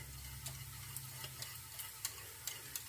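Soft scraping and stirring of a sour cream mixture in a bowl, with occasional light clinks of a utensil, steady and close, against a faint sizzling background.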